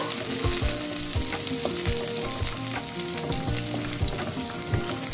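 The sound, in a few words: frying in a pan until reddish-brown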